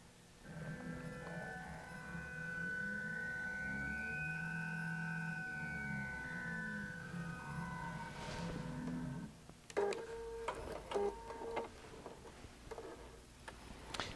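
A QBOT V3 quilting robot stitching an appliqué: a motor whine rises and falls in smooth sweeping arcs as the machine moves, then gives way to a quicker run of sharp mechanical ticks and clicks, fairly quiet and steady.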